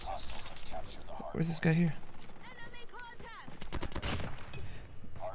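Gunfire in the video game COD Mobile sounds in short, sharp bursts, the heaviest near the end, while someone talks over the action.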